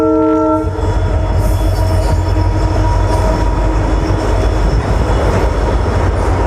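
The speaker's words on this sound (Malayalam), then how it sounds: "ഒരു ട്രെയിൻ വരുന്ന ശബ്ദം കേൾക്കുന്നുണ്ട്. ഇവിടെ നിന്ന് കഴിഞ്ഞാൽ ഇങ്ങനെ ട്രെയിൻ പോകുന്ന കാഴ്ചകൾ കണ്ട് നിൽക്കാം. ഗുഡ്സ് ആണെന്ന് തോന്നുന്നല്ലോ, നല്ല സ്ലോ ആയിട്ടാണ് വരുന്നത്." A slow goods train rolls past at Munroe Island, its horn sounding at the start before a steady, loud rumble of wagons and wheels carries on throughout.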